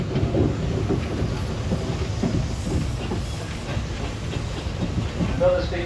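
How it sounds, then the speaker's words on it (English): A Foden steam traction engine drives past at a steam rally in Shrewsbury, giving a continuous close rumble with rhythmic chuffing, clanking and steam hiss. "Here is then us racing a Foden traction engine just on the way to leaving the ring."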